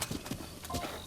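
Hooves of a wild horse in the Hateno region of Zelda: Breath of the Wild, a quick run of a few clip-clop steps, close and fairly clear over a soft game background.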